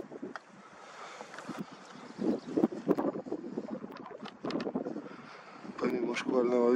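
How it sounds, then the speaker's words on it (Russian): Strong, gusty wind buffets the microphone outdoors at night, roaring in uneven surges that build toward the end while someone talks over it. "Помимо шквального ветра, который к бонусам не относится."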